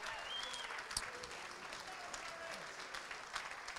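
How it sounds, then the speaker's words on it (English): Guests at a Manchester United foundation gala dinner give a round of applause to the distinguished members, a soft, distant, continuous patter of clapping from a large room. "Can you please give them a round of applause?"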